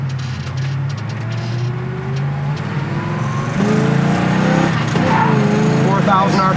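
A 1967 Mustang GT with the S-code 390 V8 revving while driving, engine tone climbing through the gears with rising harmonics, heard close from inside the car as someone talks over it.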